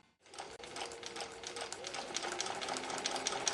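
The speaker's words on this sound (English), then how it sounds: "I'm just stitching those two right sides together with my 1/4 inch seam" A sewing machine stitches two fabric strips right sides together along a quarter-inch seam, a steady fast mechanical whir that builds slightly, close and fairly quiet, with no voice.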